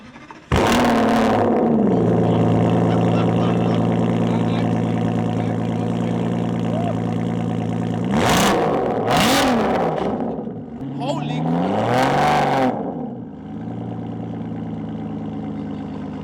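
A car fitted with an AMR Racing exhaust is started at a London concours show. The engine catches with a loud bark, then settles into a deep, steady idle broken by a few sharp throttle blips, with speech heard around it.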